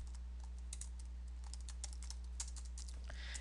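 Steady, rapid clicking of a computer keyboard as code is typed for a Microsoft Excel pivot table subroutine, close and clear over a low constant hum, with no talking.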